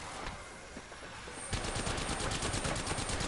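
Rapid automatic gunfire crackles in a shooting video game, a steady stream of close, dense shots that grows louder and thicker about halfway through, with no voices.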